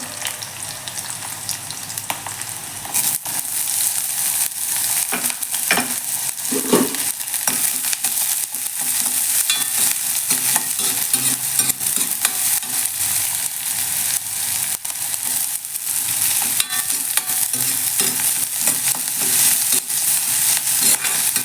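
Onions lightly sautéing in a pan for mint rice crackle and sizzle continuously, with frequent stirring scrapes and taps over a long, even stretch and no talking.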